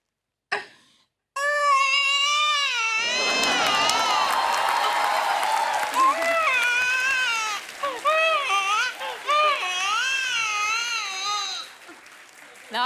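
A man imitates a newborn baby's crying with loud, wavering wails that go on for several seconds in a television studio, with an audience cheering and applauding underneath.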